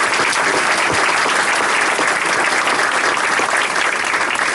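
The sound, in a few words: applause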